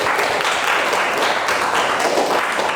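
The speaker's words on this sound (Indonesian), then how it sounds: "Coba kita tepuk tangan untuk keyakinan kelas kita hari ini." A classroom group claps together for an agreed class pledge, a dense, steady wash of many hands filling the whole moment, loud and continuous without pauses.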